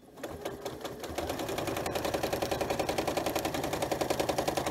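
A sewing machine fitted with a walking foot stitches through a quilt, starting up and settling into a fast, even, close mechanical stitching rhythm with no talk over it.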